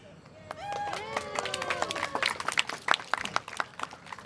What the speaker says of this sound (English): why is everybody cheering?